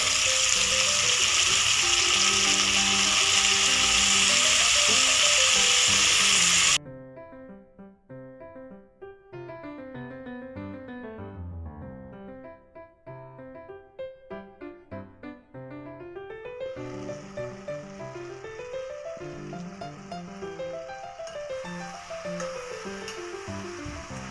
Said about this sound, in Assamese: ধুনীয়াকৈ ফ্ৰাই হৈ গৈছে মাংসখিনি। এয়া মই কোমোৰাখিনি দি দিছোঁ